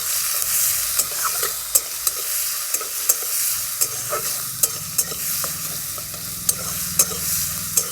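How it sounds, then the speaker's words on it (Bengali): Snails fry in hot oil with salt and turmeric, a continuous crackling sizzle broken by repeated sharp scrapes and taps of a spatula stirring the pan, close and without talk. "তেলটা গরম হয়ে গেছে, এরপর আমি এই শামুকগুলো ভেজে নেব।"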